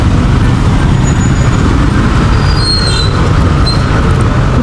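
A motorized tricycle riding through the Philippines, a loud, constant rumbling engine drone with road and wind noise close up, steady throughout with no pauses.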